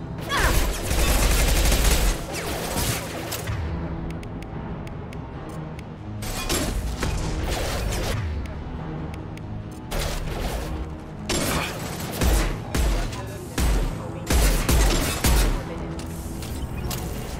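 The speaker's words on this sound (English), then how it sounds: "His mechs shoot without question." Combat mechs in Mass Effect 2 fire their guns in a long chaotic firefight, with loud bursts of rapid gunfire and booms breaking out again and again between quieter gaps. Some speech can be heard beneath the shooting.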